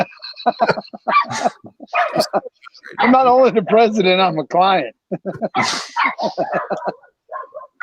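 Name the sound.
dogs barking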